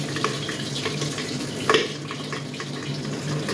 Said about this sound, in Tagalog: Konting tubig.